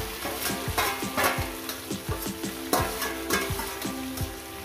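Brinjal and tomato with dried chilli sizzle in a pan while a spatula scrapes and stirs in a loose repeating rhythm, close and moderately loud with no voice over it.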